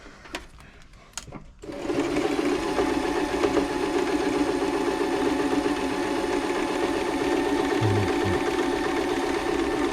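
A Toyota Oekaki RS2000 sewing machine with its hook fitted starts up after a few faint clicks and then runs on in a steady, even mechanical whir, close and fairly loud, with no talking.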